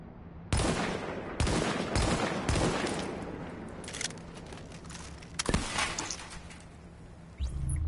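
Sniper rifle shots in a PS4 shooter game, several sharp loud cracks spaced a second or more apart, with a couple of fainter shots and quiet game ambience between them.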